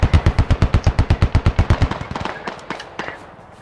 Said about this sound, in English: whoever's on the machine gun, I need you to shoot the house